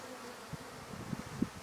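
Honey bees buzz softly over a hive frame during a spring inspection, a low, faint drone with a few slightly louder swells near the end.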